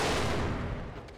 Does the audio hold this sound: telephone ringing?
no